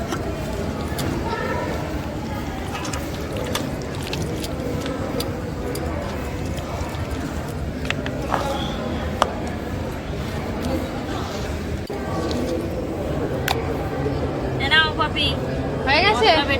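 Spice paste being ground by hand in a home kitchen, heard as steady rhythmic tapping and scraping clicks close by, with voices and household bustle underneath throughout.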